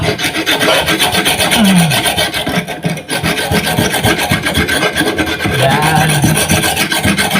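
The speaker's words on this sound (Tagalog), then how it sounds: "Tanggalin natin yung mga kalawang" Rusty metal of a coconut grater is scraped hard and repeatedly, a loud, rhythmic rasping with short strokes close up and no talking.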